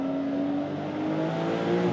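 A Porsche 992.2 Carrera accelerating on a race track, its engine note rising steadily and loud with clear harmonic tones climbing in pitch over two seconds.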